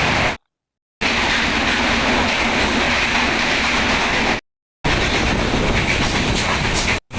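Loud continuous rumble and rattle of the Sindhudurg Express moving along tracks from Mumbai to Konkan, heard from inside, with brief abrupt cuts to silence.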